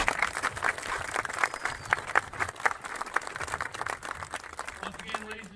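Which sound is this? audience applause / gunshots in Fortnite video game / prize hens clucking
audience applause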